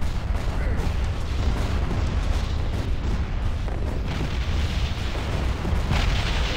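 Starship cannon fire and explosions in a Star Wars space strategy game, a continuous loud barrage of blasts and booms layered densely throughout.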